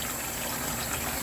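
Tap water gushes steadily into a sink while dishes are washed, a brief, close, continuous rushing spray.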